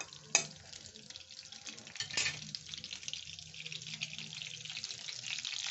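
Chopped onion and chilli land in hot oil and butter and set off a sudden sizzle that settles into a steady frying hiss, close and moderately loud, with no talking over it.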